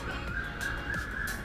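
Crows caw outdoors under a clear blue sky, a steady run of harsh calls over constant broadband background noise, with no talking.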